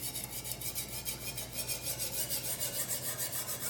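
A Kazak UBR knife is sharpened, giving a steady series of rapid, rhythmic scraping strokes, close and fairly quiet, repeating evenly throughout.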